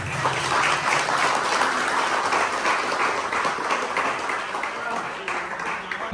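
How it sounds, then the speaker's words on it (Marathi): A crowd applauding, dense sustained clapping that holds steady for several seconds before thinning slightly toward the end. "मी सगळ्यांना विनंती करतो या कार सेवकांसाठी एकदा जोरदार टाळ्या होत्या"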